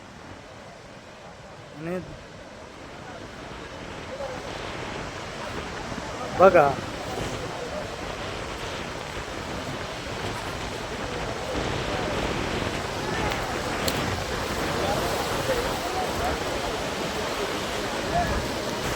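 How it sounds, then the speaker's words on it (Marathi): Floodwater pours through all eighteen open gates of the large earthen dam at Paithan, Maharashtra, a continuous powerful roar with someone talking over it. "अठराची अठराही मोऱ्या चालू केल्यात पाणी किती वेगाने पडतंय"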